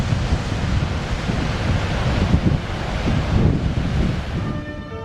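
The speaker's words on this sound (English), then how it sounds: "Recent storms had stirred up the ocean, and hectares of foam washed backwards and forwards in the surf." Storm-stirred Southern Ocean surf rolling in on the Tasmanian coast near the Arthur River, a continuous loud roar of breaking waves and churning foam heavily buffeted by wind on the microphone.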